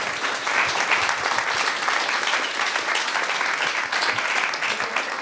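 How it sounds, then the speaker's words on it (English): Sustained audience applause at a journalism industry talk event, a dense, even roar of many hands clapping close by with no speech over it. "let's give everybody here a round of applause."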